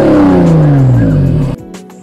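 A BMW 5 Series car engine revs high, then winds down and drops to a low, steady idle.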